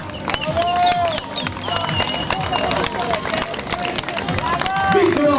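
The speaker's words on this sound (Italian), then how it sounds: "Un applauso, si guadagnano il terzo del nuovo podio" A crowd applauds podium finishers at the Targa Florio 2021 rally awards ceremony with a steady wash of clapping and cheering, while an announcer talks over it and music plays.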